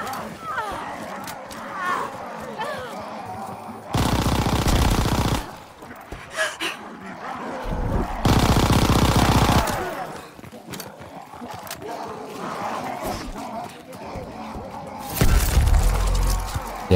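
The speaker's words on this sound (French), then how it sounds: "Tirer mes dernières balles pour pouvoir avoir mon bloc." Bursts of gunfire in Call of Duty WWII Zombies, with loud sustained volleys erupting repeatedly between stretches of game noise and voices talking.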